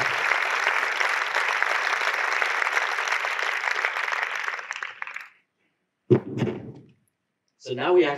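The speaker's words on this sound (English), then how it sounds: "So please give a big round of applause to Chok and to Finn." Loud, dense applause from a seated audience at a talk or dialogue event, sustained for about five seconds before fading out, followed by short bursts of voices.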